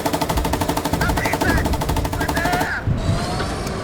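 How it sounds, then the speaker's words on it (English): A machine gun in Gunner Heat PC, the T-62 tank game, rattles in a fast, even, loud burst for nearly three seconds, then cuts off into engine rumble, with a voice heard briefly over the fire. "Yeah, machine gun."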